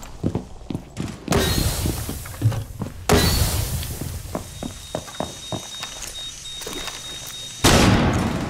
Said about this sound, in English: Throwing smoke grenade.